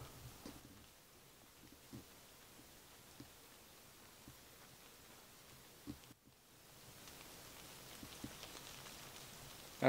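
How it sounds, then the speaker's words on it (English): Steady soft patter of rain falling on a misty mountain hiking trail, a faint continuous hiss with scattered drip ticks, briefly dipping near the middle before resuming, with a sharp close rustle at the very end. "I'm fairly certain that is rain."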